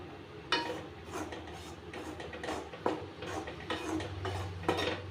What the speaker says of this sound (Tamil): இப்போ ஒரு கப் அளவுக்கு கோதுமை மாவை அதே நெய்யில் போட்டு நல்ல ஒரு அரோமா வர அளவுக்கு வறுத்துக்கணும்